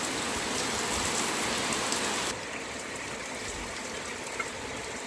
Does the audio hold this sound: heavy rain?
yes